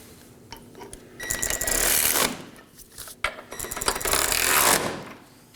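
A ratchet snugs down rear engine torque strut mount bolts on a 2018-2024 Chevrolet Equinox 1.5L, giving two loud, close bursts of rapid clicking separated by a short pause.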